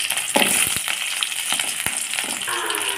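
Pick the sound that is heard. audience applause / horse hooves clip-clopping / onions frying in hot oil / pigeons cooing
onions frying in hot oil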